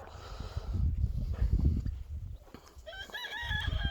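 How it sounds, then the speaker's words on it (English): A pet mutt rooster on a free-range farm crows once near the end, a wavering call rising over a bed of low rumbling noise and clucking chatter from the flock. "That is the funniest rooster I have by far."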